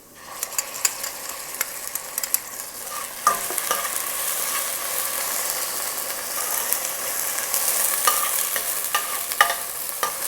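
Onion and spices being sautéed in a pan for Malvani chicken (kombadi rassa), a steady close sizzle broken by frequent scraping and stirring clicks from a spatula, with no talk.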